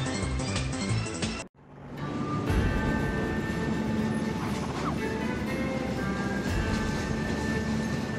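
Freight train running in the train video game Conduct DELUXE, with a brief rhythmic sound cut off, then a loud, continuous rumble and rattle of rolling rail cars with faint tonal whines.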